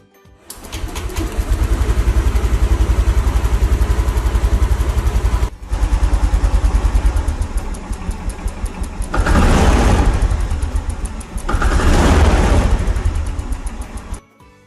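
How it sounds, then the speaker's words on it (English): A Honda motorcycle engine cranks and catches, then settles into a steady close-up idle, cutting briefly before running again with two stronger revving surges and a final stop. "Start the engine."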